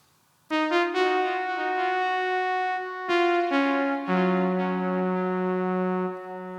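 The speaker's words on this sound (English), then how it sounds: "The JX-8P sound is basically a string pad that plays the same thing as the melody." A soft Roland JX-8P synth string pad plays a slow melody of sustained notes, each entering with a gentle attack and held, with a faint delay echo behind them.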